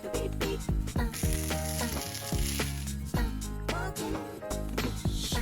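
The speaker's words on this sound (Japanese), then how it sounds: "蓋をして片面約3分ずつ焼きます" Semolina suji nasta dough frying in oil in a covered frying pan over low heat, giving a steady crackling sizzle broken by clattering knocks and scrapes, fairly close and with no talk.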